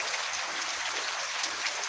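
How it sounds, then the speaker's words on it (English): Steady rain pours down outdoors, a dense even hiss of drops with no break or change in level throughout. "I hear the rain coming down."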